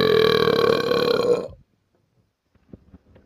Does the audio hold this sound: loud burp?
yes